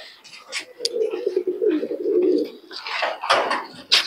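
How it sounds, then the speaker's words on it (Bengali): Pigeons at a pigeon market in Murshidabad give a close, low, rolling coo, with sharp chirps and scattered calls from other birds around it and a voice talking through part of it. "বন্ধুরা দেখুন একটু সব কবুতরগুলো দেখাচ্ছি"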